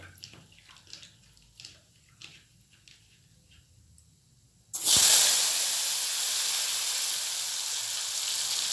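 Small cut potatoes dropped into hot oil in a pan for an Odia-style fish potato curry, a few faint clinks, then a sudden loud sizzling hiss that starts midway and continues steadily to the end.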